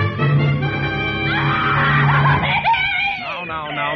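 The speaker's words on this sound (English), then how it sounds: "And then she threw up her hands and shrieked." A woman in a radio drama lets out a long, loud shriek that rises and wavers in pitch, starting under a low sustained tone and trailing off into breathy wails.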